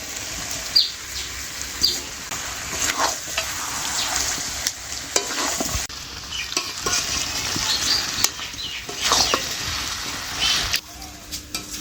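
Mutton and fried potatoes sizzle in a pan for Bengali khasir mangsho while a spoon stirs them, making repeated scraping strokes and clanks over a continuous close frying hiss.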